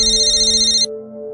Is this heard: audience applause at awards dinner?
no